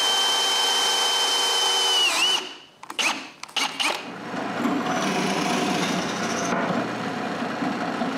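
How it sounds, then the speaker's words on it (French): Drill press boring holes in wood, a whining motor hum that drops off, followed by short bursts of cutting noise and a lower rumbling drone, heard alone without talk. "Ensuite, je perce 3 trous pour pouvoir fixer la scie à sa base."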